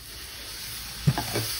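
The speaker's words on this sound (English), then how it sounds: "now that it's ripping hot, let's get the potatoes in there" Potatoes hiss in oil in a very hot pan, a soft steady sizzle broken by a couple of brief clacks as they settle.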